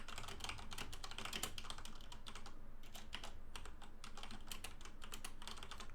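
Rapid typing on a computer keyboard during an online Magic: The Gathering session, quick irregular key clicks close by and fairly quiet, with a brief pause midway.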